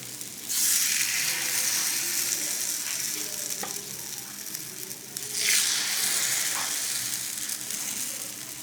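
Chitoi pitha batter made with milk sizzles loudly in a hot mold, a close, bright frying hiss that flares up twice as more batter goes in, with faint clinks in between.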